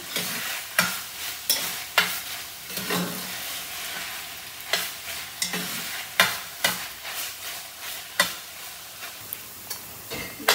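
Tofu frying in a pan with barley, spinach and soya, a soft steady sizzle broken by repeated scraping stirs of a spoon against the pan, close and fairly quiet, with no talking.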